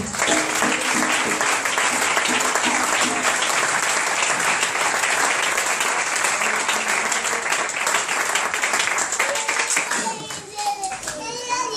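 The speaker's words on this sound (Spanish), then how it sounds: "¿Puedes darle un aplauso al Señor?" A church congregation claps for the Lord during a sermon, steady dense applause throughout with children's voices mixed in, fading and breaking off near the end as a voice comes through.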